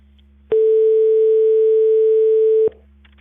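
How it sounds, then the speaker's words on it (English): A censor bleep covers personal details in a 911 emergency call recording, a single loud steady pure tone lasting about two seconds, cutting in and out abruptly over faint line hum. "So they just bleep out names and phone numbers,"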